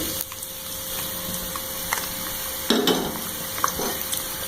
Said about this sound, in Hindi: अब इसमें मैंने ये 3 स्लाइस अनियंस ले लिए हैं, 3 अदद प्याज के स्लाइस कर लिए हैं। ये मैं इसको करती हूँ ब्राउन।